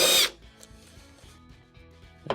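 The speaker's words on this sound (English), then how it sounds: "Let's take out the 2 screws on the top." A power drill removes screws from the top panel of a clothes dryer during a repair. A single loud, close whirring burst opens, followed by quiet handling noises and a faint final clunk.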